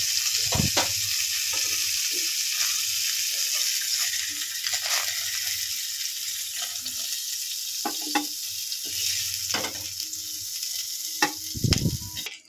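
Cauliflower florets fry in a pan until browned, giving a continuous sizzle broken by sharp scrapes and clatters of stirring throughout.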